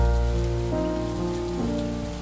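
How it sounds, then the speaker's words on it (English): Steady rain from the Stardew Valley video game hisses continuously, loud and close, with a low musical drone running beneath it. "You're walking in the middle of the rain,"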